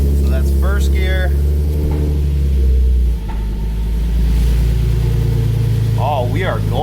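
Nissan 370Z engine rumbling low and steady in first gear after a clutch upgrade, heard close with a brief dip partway through, while a person talks over it.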